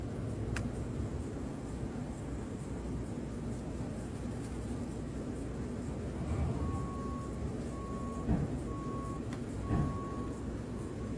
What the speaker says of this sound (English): that little hum in the background, that's actually a fan that's positioned right above me